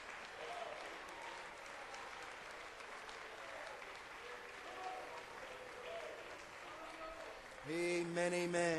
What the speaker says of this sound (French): pouvons-nous donner une acclamation de louange au Seigneur pour tous ces témoignages